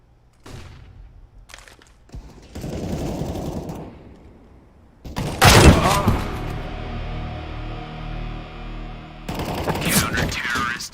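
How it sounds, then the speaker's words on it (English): Counter-Strike round with a flashbang grenade going off amid gunfire: scattered shots early, then a sharp loud burst of rapid fire and a bang mid-clip, followed by sustained ringing and more firing near the end, with voices mixed in. "I'm throwing a flashbang."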